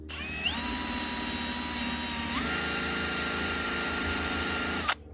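A drill spins a rubber decal eraser wheel against a Duramax truck's body to strip leftover badge adhesive, giving a steady close whine that shifts pitch midway and cuts off at the end.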